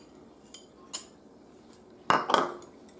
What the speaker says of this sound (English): So I'm just gonna whisk in that butter.